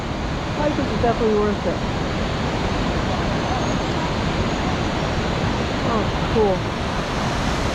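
Hidden Falls in the Grand Tetons roars as a loud, constant wash of falling water close by. People talk briefly over the steady rush.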